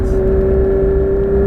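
A Porsche 991 GT3 RS in a racing video game at Dijon-Prenois holds a steady, droning engine tone under throttle, brief and continuous without a clear rise in pitch.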